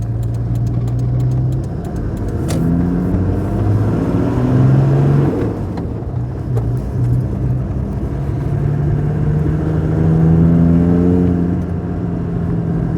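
Icelandic-spec Toyota Land Cruiser Troop Carrier with massive tyres driving along tiny mid-Wales lanes, its engine droning steadily and rising and falling through gear changes, close and continuous with no talk.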